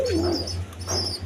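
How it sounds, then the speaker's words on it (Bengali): A pair of pigeons kept with two chicks at a farm gives soft, close cooing calls over a steady low hum, with no talking. "দুইটা বাচ্চা সহ এক পেয়ার কবুতর আছে"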